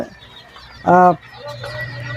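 Desi chicks make a single short burst of high, stacked cheeping near the middle, over a low steady background hum.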